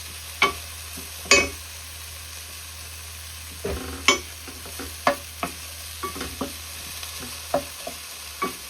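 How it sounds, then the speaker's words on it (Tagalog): Onions sautéing in a pan until browned, with soft frying underneath and a scatter of sharp spatula clicks and scrapes against the pan at irregular intervals, close and fairly quiet, no voices. "Ganyan lang hanggang sa mga luto itong mag-brown itong ating sibuyas."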